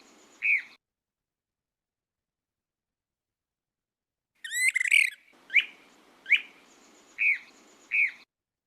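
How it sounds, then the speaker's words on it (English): Ash-throated flycatcher calls, one short whistled note followed after a pause by a rough burry call and a run of five evenly spaced clear whit notes, close and distinct against silence. "Ash-throated flycatcher."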